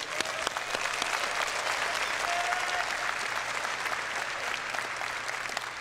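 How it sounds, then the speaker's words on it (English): Sustained, dense audience applause at the CitizenCon event fills the room, steady and loud throughout with scattered sharper claps standing out, and no talk over it. "please give a round of applause for Tyler Wicken."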